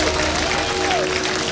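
An audience at a live comedy and mentalist show claps in a dense, continuous burst of applause, loud and steady throughout, with a voice faintly audible underneath.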